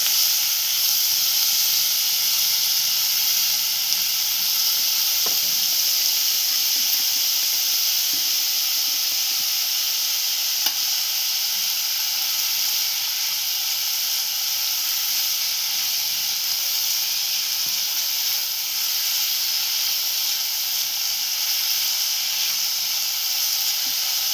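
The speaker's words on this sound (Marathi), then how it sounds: "इथेच आपण अर्धा कांदा शिजून घेणार आहोत" Half an onion sizzles in a hot pan while cooking for a chutney, producing a steady, even hiss that holds unbroken throughout, close and fairly loud, with no talking.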